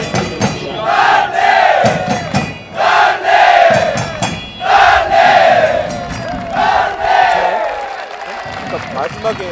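FC Anyang football supporters in a stadium cheer and chant in loud, rhythmic surges that rise and fall roughly every second or two, with a crowd of voices continuous throughout and no single speaker standing out.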